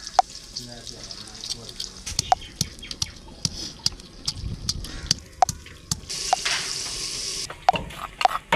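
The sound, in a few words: onions frying in hot ghee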